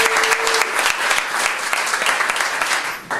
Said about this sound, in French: Donc, on les applaudit encore.